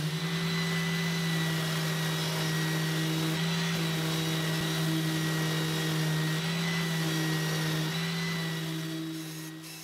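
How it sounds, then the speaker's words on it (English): A steady, whining random orbital sander drones continuously at a constant pitch on a table, moderately loud and close, easing slightly at the end, running without pause. "the whole table gets blitzed with a random orbital sander"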